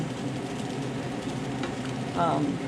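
Potatoes cooking in olive oil give off a steady, continuous sizzle and crackle at close range, with a brief scraping stir near the end.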